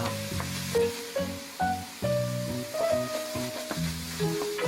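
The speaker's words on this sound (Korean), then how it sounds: "올리브유를 넣은 팬에 양파와 마늘을 넣고 볶다가" Onion, garlic and vegetables stir-fry in olive oil in a heavy-bottomed pan, a steady close sizzle broken by repeated clanks and scrapes of a utensil stirring against the pan.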